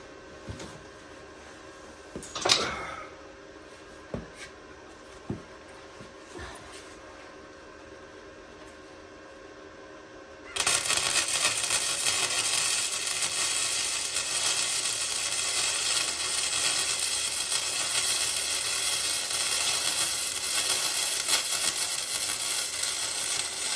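A TIG welder works on a CrossKart shift lever and fuel cells, first giving a few sharp arc pops and clicks, then settling into a steady, loud hissing buzz that carries on to the end.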